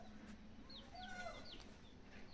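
Chickens clucking at close range in a rural village yard, several short calls scattered over steady outdoor background noise, no talk.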